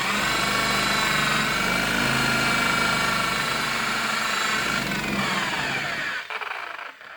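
A dual-action polisher runs steadily to clean its pad, a loud continuous whirring motor drone with a low vibrating rumble that holds for about six seconds before cutting off and spinning down to quiet.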